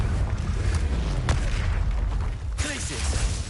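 Confringo fire spell explosions in a video game, dull booms with a sharp burst near the middle and another later, over continuous rumbling game noise, with a voice briefly present.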